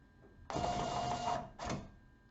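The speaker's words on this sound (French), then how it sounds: "L'imprimante redémarre, puis on effectue la fin de la mise à jour." A Zebra label printer restarting after a USB configuration update gives a steady mechanical whir for about a second, a brief pause, then a second shorter burst, fairly loud and close in a quiet room.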